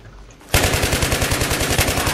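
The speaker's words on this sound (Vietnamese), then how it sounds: "Nó đúng là súng MG thiệt." Sustained machine gun fire in the shooter game Battlefield 3, a loud, rapid rhythmic burst of shots starting abruptly after a brief quiet lead-in and continuing steadily.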